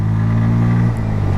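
A Bajaj Pulsar N160 motorcycle engine revs loud and steady at high RPM for about a second, then the note drops sharply as revs fall off during a slipper clutch downshift test.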